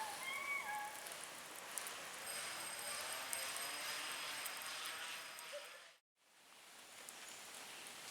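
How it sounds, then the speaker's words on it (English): Steady rain falls at a campsite on Assateague Island, a continuous soft hiss of drops pattering on surfaces, with a cat-like meow early on and a brief break near the end. "As you see, it's raining out."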